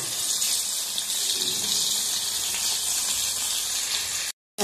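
Water poured into a small bowl of chili powder, salt and turmeric, a steady broadband trickle close up that runs for about four seconds and then cuts off.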